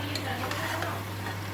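Oil hissing and crackling in a hot frying pan, a steady close sizzle with light stirring scrapes over a low constant hum.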